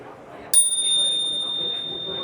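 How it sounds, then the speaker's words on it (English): A child's bicycle bell gives a single bright ring that hangs and slowly fades, heard at a trade show booth with a low murmur of background noise. "I'm going to ring a bell on a child's bicycle"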